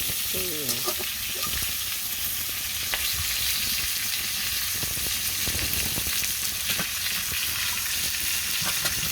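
Fish fries in a pan at an outdoor picnic on a rainy day, a strong steady sizzle and crackle throughout, punctuated by short stirring scrapes and taps.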